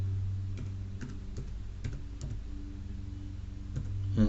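Values get typed into a computer keyboard to solve a quadratic equation. Irregular soft key clicks, about a dozen of them, sound close by over a low steady hum.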